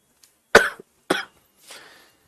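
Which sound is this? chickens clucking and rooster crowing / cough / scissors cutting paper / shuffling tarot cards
cough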